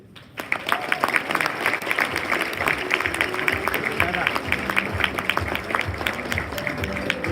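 Wedding reception guests give the bride's father a big round of applause, dense continuous clapping from a crowd that starts abruptly and carries on steadily to the end.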